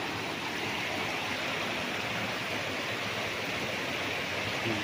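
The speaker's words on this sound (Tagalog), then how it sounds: "doon po papunta ang agos ng tubig" Spring-fed stream water flows steadily at a resort in Liliw, Laguna, a dense, continuous rushing wash with no pauses or voices.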